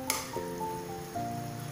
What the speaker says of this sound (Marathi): आपला गूळ वितळतोय.